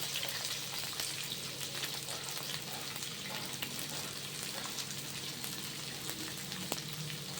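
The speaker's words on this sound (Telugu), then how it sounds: "ఇప్పుడు ఆయిల్ వేడైన తర్వాత మనం కట్ చేసుకున్న వెజిటబుల్స్ వేసుకుందాం. ముందుగా క్యాబేజ్ వేసుకుందాం," Chopped cabbage dropped into hot oil in a home kitchen, setting off a steady broadband sizzle that holds at an even, moderate level throughout, with faint crackles scattered over it and no talking.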